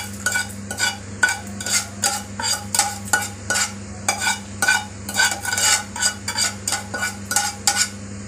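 Tempering is poured into a tamarind rice mixture and stirred with a spoon in a pot, giving a steady run of close, rhythmic scraping and clinking strokes over a low hum, with no talk.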